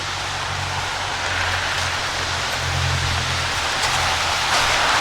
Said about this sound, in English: Rain has slowed down at least.